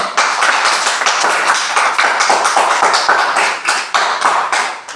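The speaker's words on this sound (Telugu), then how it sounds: "ఆయనకు ఒకసారి చప్పట్లు కొడదామా?" Schoolchildren in a classroom clap together for a teacher's lesson, a loud, close, continuous round of applause with rhythmic pulses that lasts throughout, with no speech over it.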